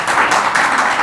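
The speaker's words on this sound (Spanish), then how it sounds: "Fuerte el aplauso para Octavio." An audience applauding for Octavio at a talk: a brief, dense burst of clapping from many hands, loud and close.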